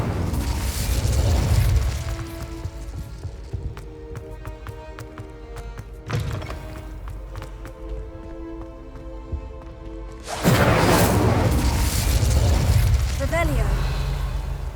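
Incendio fire spell in Hogwarts Legacy, loud whooshing bursts of flame at the start and end with a quieter crackling stretch between, a voice briefly calling out the spell.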